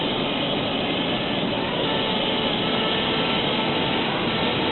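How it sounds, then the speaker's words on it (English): A Turtle Wax Bubbilizer lava-themed car wash system runs with a mechanical float, giving a steady, loud, continuous whooshing drone with no break or talk. "Bubbilizer operating with a mechanical float, which is what you hear in there."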